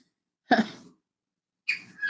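Two short, close bird chirps ring out, the first a brief bright call and the second a longer warbling phrase after a silent gap.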